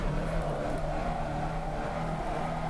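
A car driven around a track with drifting, its engine a steady continuous drone at moderate distance, no distinct tire squeal standing out.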